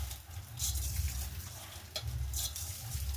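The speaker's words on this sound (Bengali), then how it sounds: "এখানে চালগুলো দিয়ে ভালো করে ভেজে নেবো" Raw rice frying in a pan gives a steady, close sizzle while a utensil stirs and scrapes through the grains in two bursts of scratchy rustling.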